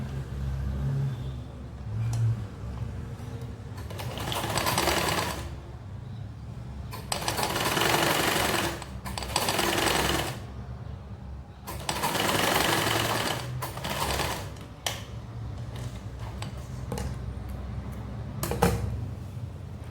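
A sewing machine stitching panels of a ruched skirt together, running in loud, fast whirring bursts of a few seconds each, separated by short pauses and small handling noises, with no voices.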